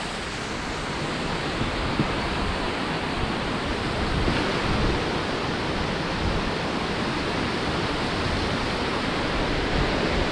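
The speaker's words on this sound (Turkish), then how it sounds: "İşte şelale." Küp waterfall near Adana, Turkey, where clear water pours out from beneath the rocks, gives a loud, steady rushing roar that runs without a break from start to end, close by and with no voices.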